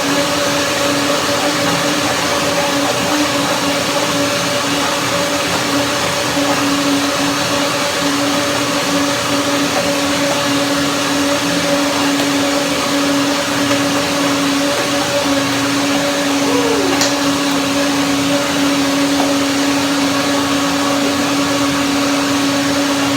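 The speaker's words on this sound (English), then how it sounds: "So now I will blend this." A blender whirs a ginger, macadamia nut, banana and milk smoothie in one steady, loud motor whine that holds without pause, with no talking over it.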